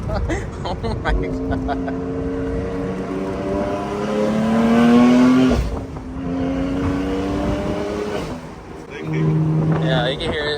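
A 1,000 HP BMW M4 with a boost leak runs loud and close in a steady engine drone that rises and falls with throttle, dipping briefly midway, while people talk over it.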